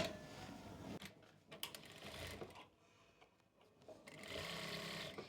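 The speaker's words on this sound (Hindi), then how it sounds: "और एक सिलाई हम यहाँ किनारे से लगाएंगे" A sewing machine runs in bursts, stitching a folded piping edge on an Anarkali kurti, with fast rattling needle chatter that stops and restarts, fairly faint and close.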